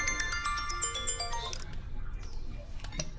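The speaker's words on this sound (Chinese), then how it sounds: "谁来电话了？" A mobile phone ringtone plays a bright melodic tune indoors for about a second and a half, then fades into quiet background.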